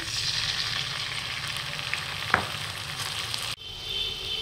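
Onion paste fries in hot oil for a Bengali fish curry, a steady close sizzle with a brief sharp crackle midway, then a sudden dip before the sizzling returns.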